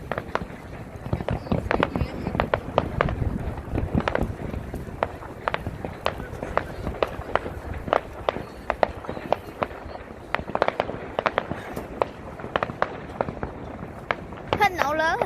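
Fireworks burst in the Saturday night sky over Australia, a steady run of sharp cracks and booms spread across the whole stretch, some close and loud, with people talking underneath.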